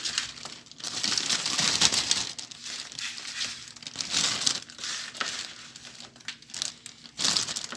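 Frozen homemade potato fries are tipped from a tray into a plastic zip-lock bag, giving bursts of crinkling plastic and rattling, clattering pieces that rise and fall in several waves, fairly close and moderately quiet.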